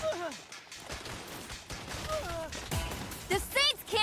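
Turret gunfire in the video game Saints Row, irregular bursts and impacts mixed with game effects, under a voice talking over them.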